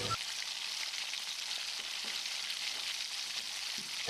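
Boiled potatoes frying in hot oil give off a steady, even sizzle that holds at a constant level throughout, with faint scraping or stirring noises beneath it and no voices.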